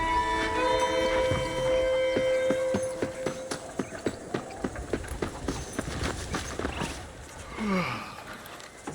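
Hoofbeats from a horse ride in the Red Dead Redemption video game, a steady clip-clop rhythm rising out of music and ambience, followed by a brief horse snort near the end.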